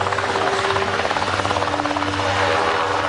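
Helicopters take off to search for the wreck of American Airlines Flight 965 near Cali, Colombia, their rotors beating in a steady, loud, rapid chop with a droning engine hum, close and continuous.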